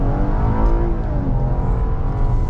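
A 2015 Ford Explorer Police Interceptor engine accelerates steadily from inside the cabin, a continuous low, even drone that holds without a break and with no talk over it.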